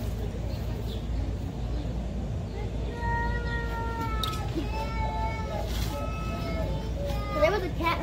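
A cat meows repeatedly in drawn-out, wavering cries over low background rumble, growing more insistent toward the end, while a voice can be heard nearby.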